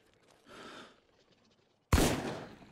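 A single sharp, loud gunshot from a firearm in the video game Miscreated cracks out after a quiet stretch, then fades quickly.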